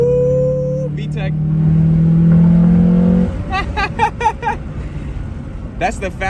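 A 1997-2001 Honda Prelude engine revs hard into VTEC, with a loud, rising engine note building for about three seconds and then dropping away as someone talks over it.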